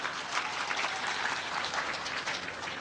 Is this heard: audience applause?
yes